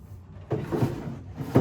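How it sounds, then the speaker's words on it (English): A wooden drawer slides in and out on a plastic drawer guide during a furniture makeover, giving a few soft, quiet rumbling strokes close by with no talking. "I tested to make sure the drawer guide worked properly and that it slides in and out seamlessly"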